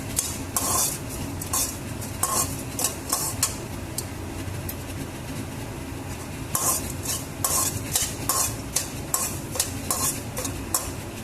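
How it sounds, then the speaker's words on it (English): A utensil scrapes and clinks rhythmically against a pan as chopped ginger and curry leaves are stirred, repeated scraping bursts over a soft sizzle, close and clear. "after adding the curry leaves and the ginger, I'm going to stir it."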